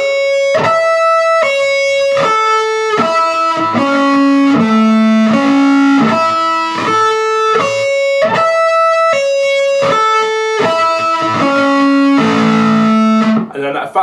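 Distorted electric guitar plays a slow sweep-picking arpeggio pattern, loud and sustained, with each note of the sweeps ringing out clearly and the phrase repeating in steady cycles.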